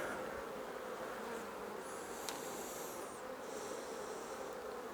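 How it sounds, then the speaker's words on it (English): Wasps and honey bees buzzing around a beehive at an August apiary: a steady dense hum of many insects, with individual wasps whining past close by in short higher-pitched passes. "this apiary has a tremendous number of wasps"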